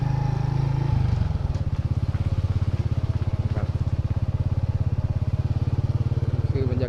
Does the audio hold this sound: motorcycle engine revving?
yes